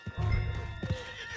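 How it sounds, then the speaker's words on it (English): A horse in the video game Red Dead Redemption 2 whinnies briefly nearby, with a snort and a few hoof clops, and no one speaking. "Put Strauss on the back of John's horse and let's get out of here."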